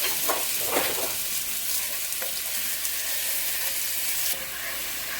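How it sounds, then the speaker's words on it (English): Garlic and soy sauce frying in a pan for chili chicken, a continuous soft hissing sizzle with a few stirring scrapes early on, fairly quiet and steady, no talking. "we're going to add our garlic. And we're going to stir it around."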